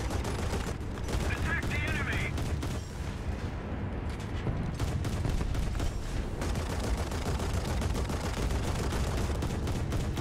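Naval gunfire in War Thunder ship combat, dense rapid bursts of shots and booms layered into a constant loud barrage over a rumbling background.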